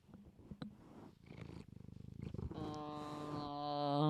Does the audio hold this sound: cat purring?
yes